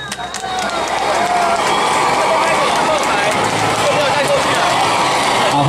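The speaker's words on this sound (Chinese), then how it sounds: "来，掌声鼓励一下。" Crowd applause at a charity parade procession in Yunlin, Taiwan: steady, dense clapping from a large outdoor crowd that swells in within the first second and holds, with a voice over a loudspeaker talking on top.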